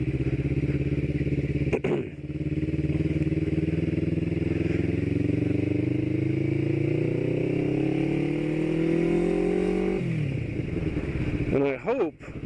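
A motorcycle engine runs loud and close, its pitch rising steadily as it revs, then dropping before a few sharp clatters at the end.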